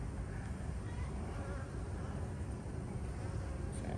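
Bees in an outdoor beehive in fall, a faint continuous hum and buzz under a steady wash of background noise, quiet and even throughout.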